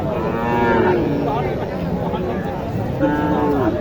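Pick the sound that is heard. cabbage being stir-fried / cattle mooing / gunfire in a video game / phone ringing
cattle mooing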